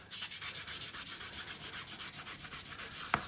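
A fondant smoother buffs homemade fondant on a heavy covered cake in quick, even back-and-forth strokes, making a soft, close rhythmic rubbing with no talk.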